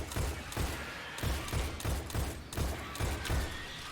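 Steady rhythmic automatic fire from a scout rifle in Destiny 2 Shadowkeep, about eight evenly spaced heavy shots over a few seconds, loud and close with no talk.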